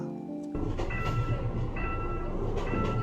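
A train rolls along the rails near a station in Yongsan-gu, Seoul, a steady loud rumble with faint rhythmic clatter and a tonal hum, starting abruptly after a brief quiet moment.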